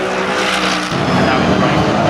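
GT race cars, a Ford Mustang and a Toyota, race at Brands Hatch in British GT: loud engine roar that climbs and shifts in pitch as the cars pass, with a commentator talking over it.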